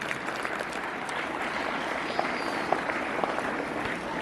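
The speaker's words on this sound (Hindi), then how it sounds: "एक बार जोरदार ताली बजा दो वहां पर" An audience at a Republic Day event claps together in a sustained burst of applause, steady crackling hand claps with a few sharper claps standing out, moderately near.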